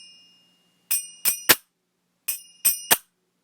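Majeera, small metal hand cymbals, are struck together in two groups of three bright, ringing clinks, each tone decaying quickly, with a short pause between groups.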